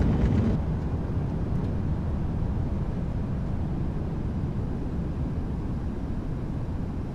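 Airliner on its landing rollout in the Prepar3D flight simulator at Cali, thrust reversers deployed, giving a loud, steady broadband jet roar that holds level throughout without speech.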